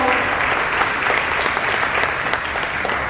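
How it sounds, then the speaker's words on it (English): A crowd applauds two young women at a school senior-week event, a loud, continuous wash of many hands clapping throughout without pause. "Give these ladies a big round of applause"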